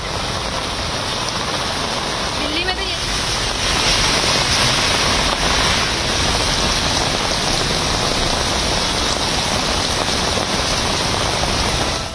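Heavy rain pours steadily onto flooded city roads, a dense, loud, continuous hiss and patter with no letup and no voices.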